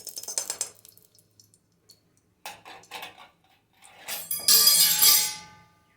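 Semolina roasting in a little ghee in a pan on a home stove: scattered light clinks and scrapes of stirring, then a louder burst of dry rustling and hissing near the end, with quiet gaps between.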